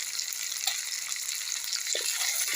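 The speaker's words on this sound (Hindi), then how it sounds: "अब इस मसाले को हमें लो फ्लेम पे ही फ्राई कर लेनी है" Masala sizzling gently in a pan over a low flame, a steady soft frying hiss throughout with a couple of faint stirring touches, no talking.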